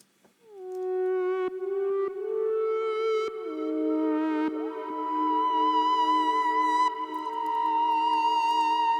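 A Skervesen Raptor FF8 guitar runs through a Virus Infinity Lead effect, sustained synth-like lead notes with gliding pitch bends, echoing and alone, fairly soft.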